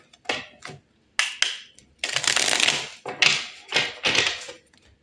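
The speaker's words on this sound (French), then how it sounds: "on va battre les cartes et tirer 4 cartes" Tarot cards being shuffled by hand in several bursts of riffling and slapping, with brief pauses between them, close and fairly loud.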